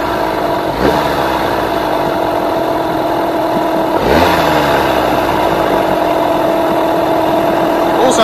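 A Yamaha 9.9/15hp outboard motor idles steadily nearby while being tuned, its engine note holding even with brief rises near the start and middle.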